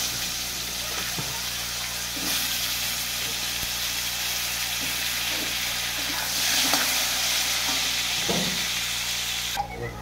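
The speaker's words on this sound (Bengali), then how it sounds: "তেলেতে আলুগুলো ভেজে নেবো" Potatoes frying in hot oil until reddish-brown, giving a steady, close broadband sizzle with a soft hiss that holds at an even level for the whole stretch.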